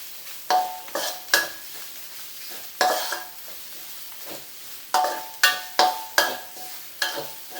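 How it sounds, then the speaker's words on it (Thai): Pork belly stir-fried with curry paste in a pan, with a run of sharp utensil scrapes and clanks over a bright hissing sizzle, each stroke loud and close, in an irregular stirring rhythm. "ตลบหมูสามชั้นลงมาผัดรวมกันครับ"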